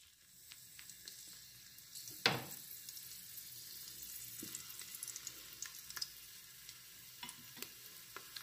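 A garlic clove browns in a Cookeo multicooker, a quiet, steady sizzle with a sharp burst as it goes in, then light scattered crackles and taps at low level.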